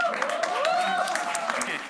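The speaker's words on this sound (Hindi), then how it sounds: "एक बार जोरदार तालियों के साथ." An audience at a comedy show claps briefly and steadily, with a voice speaking over the applause.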